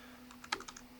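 A short burst of typing on a computer keyboard, a handful of light, quick key clicks close by over a faint steady hum, quiet and without speech.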